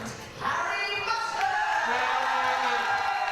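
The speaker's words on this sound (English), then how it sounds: "Listen to that cheer from Scotland" A crowd at a School Games sports match cheers for Scotland, a loud sustained roar with whoops and shouts rising after a brief quieter start and holding steady throughout.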